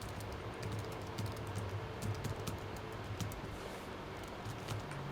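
Rapid clicking keystrokes on a faulty, corroded Apple keyboard, a steady light patter of taps over a constant background hiss, close by with no speech.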